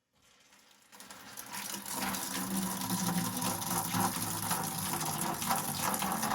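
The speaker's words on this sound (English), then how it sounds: "We're going to flush some water through it." Water flushing through an Aprilaire 800 steam humidifier canister, a steady gushing rush that starts after a brief quiet moment and stays loud and continuous to the end.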